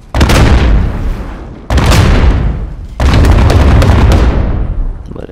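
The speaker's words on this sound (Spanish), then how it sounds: "Vale, claramente ha sido la explosión" Three heavy explosions boom one after another in Call of Duty Modern Warfare, each loud and close with a long rumbling decay, and no voices over them.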